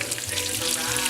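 Shrimp dropped into a hot pan for grits, giving a loud, steady hiss and crackling sizzle close up, continuous throughout.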